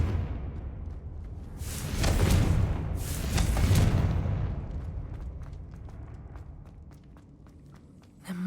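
A Confringo blasting spell detonates in Hogwarts Legacy, two broad booming bursts around the two- and three-second marks rolling into a fading rumble, with no voices over it.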